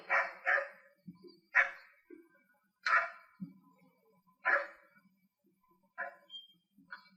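A dog barks in short, sharp bursts during a canine sports demonstration, about a half-dozen separate barks spaced irregularly with quiet gaps between, fairly close over a faint low hum.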